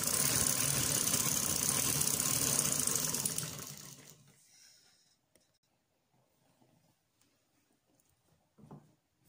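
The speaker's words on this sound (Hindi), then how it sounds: "इस तरह से हम साथ स्टिच कर लेंगे, जो कि डोरी से बहुत दूर सिलाई होगी, सेकंड सिलाई" A sewing machine runs steadily for about four seconds while stitching piping on an angrakha, a close mechanical whirr that stops abruptly, followed by near silence and a faint handling knock.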